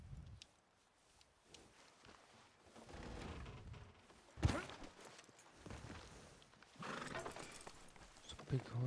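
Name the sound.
horse hooves and whinny in video game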